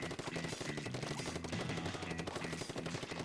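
A paint-shooting blaster weapon in the Splatoon video game fires in rapid, continuous bursts amid dense game effects, loud and busy throughout.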